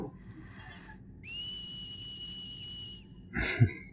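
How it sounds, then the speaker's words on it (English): A whistle in the Dissidia 012 Final Fantasy video game sounds as one clear, steady, high tone held for nearly two seconds, followed by a brief breathy rush, over quiet game background. "The friggin' whistle."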